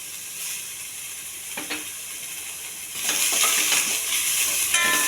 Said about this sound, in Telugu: కొన్ని ఉల్లిపాయలు. ఇవి కొంచెం దోరగా వేగించాలండి.